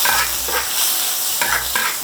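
Pork frying in a hot wok after eggs for a farmhouse stir-fry, a loud close sizzle with a repeating low thumping rhythm from the spatula or burner, no voices.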